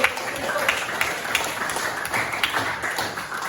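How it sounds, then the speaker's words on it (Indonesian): A class of schoolchildren applauds together at the end of an Indonesian lesson, a steady wash of many hands clapping at once with no clear breaks. "tepuk tangan yang terakhir untuk kita semua."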